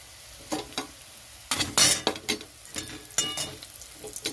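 Whole spices (bay leaf, ginger, white cumin, dried red chilli and radhuni) crackle and sizzle in hot oil as a tempering for bitter dal, in bursts of frying hiss broken by stirring and the clink of a utensil.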